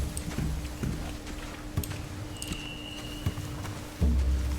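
Steady clip-clop of horse hooves at a walking pace in the video game The Walking Dead: The Final Season, fairly close, with a louder thump near the end and faint game ambience behind.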